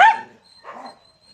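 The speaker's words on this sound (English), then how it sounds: "There's so many dogs" Dogs at the Maruthy dog shelter let out a sharp close bark followed by a softer, muffled second bark, then a faint whine trailing off into quiet.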